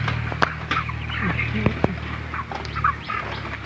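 Broiler chickens about 29 days old on a poultry farm give scattered clucks and short calls over a steady background hum, with occasional sharper bird sounds.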